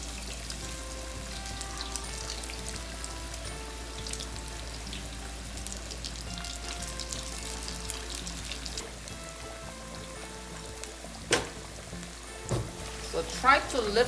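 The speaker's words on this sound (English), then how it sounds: "So I'm frying this gluten-free batch first." Gluten-free batter deep frying in hot oil, a steady soft sizzle and bubbling under a low hum, with a few louder clinks and splashes toward the end.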